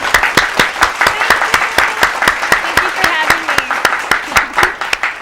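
Studio audience giving a guest of Outdoor Wisconsin a round of applause at the GTC Ecofest talk show, crisp rhythmic clapping close and loud, with a person speaking briefly over it.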